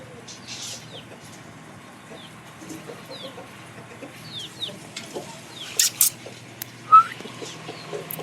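Chickens, including a black hen, cluck and chirp intermittently nearby, with scattered short calls and a few louder bursts toward the end over a quiet outdoor background.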